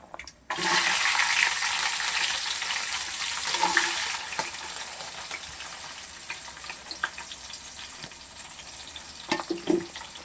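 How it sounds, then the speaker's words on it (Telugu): Oil sizzles loudly and steadily after a sudden start as tempering seeds and green chillies fry, with a crackling hiss and a few soft clinks near the end. "ఇవైతే పోపు చేస్తున్నాను"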